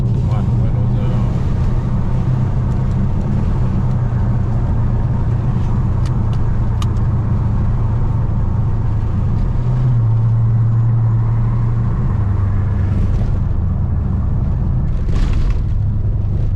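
A Dodge Charger R/T with a muffler delete, heard from inside while driving, giving a loud continuous low exhaust drone with shifting pitch as it pulls, with speech beneath.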